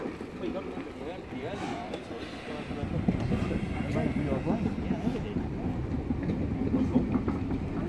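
Steam locomotive Mayflower 61306 passes at Eastbourne, a loud, continuous rumble of wheels and chuffing that swells after a few seconds, with people talking nearby.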